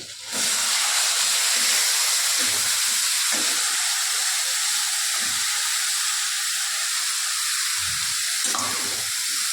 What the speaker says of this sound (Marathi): लसूण गुलाबी झाल्यावर लाल मसाला आणि हळद टाकायची. लगेच फ्लॉवर टाकायचं